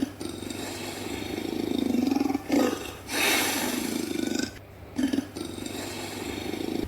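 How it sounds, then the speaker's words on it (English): A leopard roars in a series of loud, rough, rasping bursts with short pauses between them, heard close and alone without any talk. "Leopard roars."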